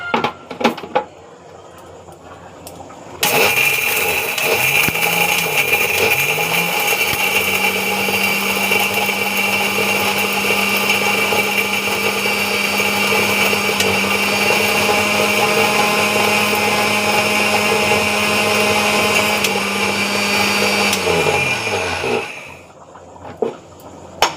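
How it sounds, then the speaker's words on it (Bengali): An electric grinder grinds fried spices, starting with a sharp rise and running as a loud, steady whir for about twenty seconds before winding down, with quiet moments before and after. "ভাজা মশলাটা এবার গুঁড়িয়ে নেবো"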